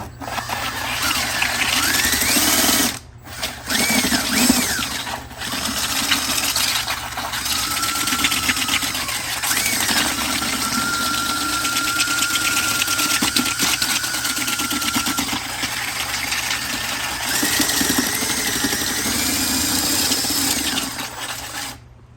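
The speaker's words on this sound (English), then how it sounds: "I really give it a little bit more power on the drill." A power drill with a mixing paddle churns grout haze remover powder in a bucket, a steady loud motor whine running almost continuously with a couple of brief pauses and speed changes.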